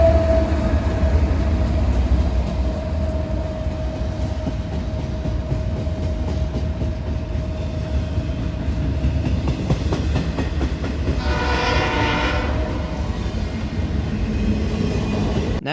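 A Norfolk Southern intermodal freight train from San Bernardino to Chicago rolls past an Amtrak platform in a loud, steady rumble with rhythmic wheel clatter throughout, its tone shifting near the end.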